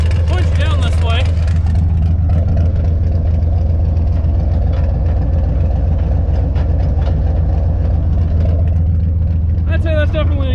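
A running 1968 Dodge Sweptline truck with a bad U-joint or driveshaft rumbles loudly and steadily, its exhaust drone continuous and close throughout, with a voice talking over it.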